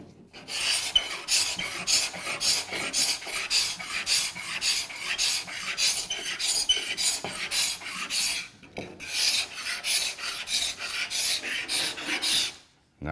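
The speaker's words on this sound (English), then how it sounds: "look how nice and easy that scrapes down" Dry TotalFair fairing compound being scraped off a boat hull, a steady run of rapid rasping strokes, close and loud, with a brief pause near the end.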